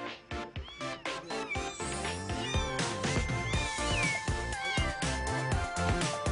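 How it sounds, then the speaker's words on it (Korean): A stray cat in heat meows repeatedly in drawn-out, wavering cries, fairly close and loud, with little else around them. "고양이가 지속적으로 우는 것은 그 녀석이 발정기이기 때문인데"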